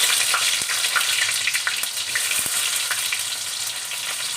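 Sliced onion fries in hot oil with kalonji seeds, a steady close sizzle with scattered crackles and a few light knocks of a spoon against the pan.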